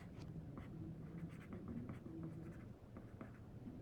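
Pen or pencil scratching across paper while small sketches are drawn, a steady close run of soft strokes and scribbles with no talking.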